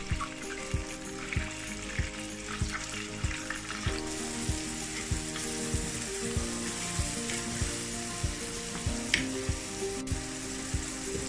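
Whole spices such as black and green cardamom and cloves fry and brown in a pot for khichda, giving a steady close sizzle with a regular ticking pulse underneath and no talking.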